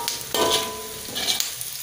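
Onion and garlic frying in a pan until lightly browned for a shrimp capcay, a steady close sizzle with two louder bursts of crackling as the pieces are stirred, and no talking.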